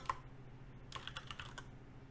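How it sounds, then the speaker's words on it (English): Fast, light keystrokes on a computer keyboard, a quiet burst of clicks in the second half over a low steady hum, with no voices. "why am I typing out counter Goku?"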